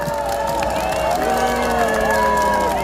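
A street crowd cheering at a presidential campaign rally in a busy shopping district, sustained loud shouting and sung or chanted voices over a dense background.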